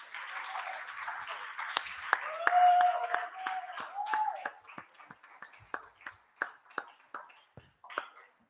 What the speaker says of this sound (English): if we are giving them a round of applause, we do it very well. Probably even cheer for them